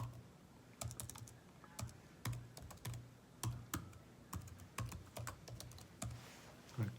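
Typing on a computer keyboard, sparse clusters of crisp key clicks and clacks at an irregular pace, close and clear against a quiet background.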